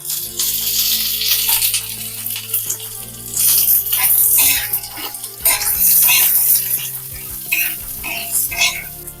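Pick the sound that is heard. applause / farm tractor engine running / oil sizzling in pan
oil sizzling in pan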